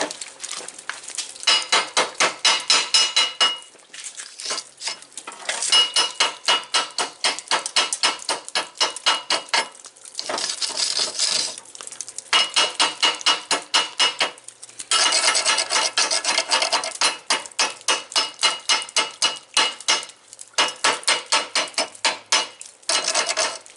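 A chipping hammer knocks slag off a fresh weld on a steel bulkhead for a coal stove, in loud, rapid bursts of sharp metallic taps separated by short pauses, close up with no talk.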